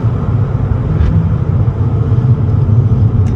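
A Fiat 500 Abarth Stage 1 running a Monza exhaust line, heard as a loud continuous droning engine rumble from inside the moving car, steady and heavy in the low end without talk.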